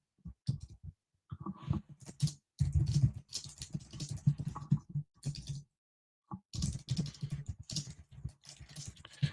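Bursts of quick, light clicking on a computer keyboard as a post is typed, close and fairly soft, broken by short pauses between runs of keystrokes.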